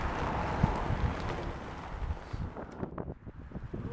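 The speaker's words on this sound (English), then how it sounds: "The wind's coming." Wind gusts rush and roar across an outdoor microphone at a comic convention, a loud broadband rumble that eases off toward the end, with no talking.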